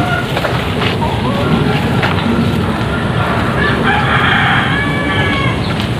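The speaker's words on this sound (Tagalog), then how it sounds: "tingnan mo mga manok" Native free-range chickens on a farm cluck constantly at close range. A rooster crows over the flock around the middle.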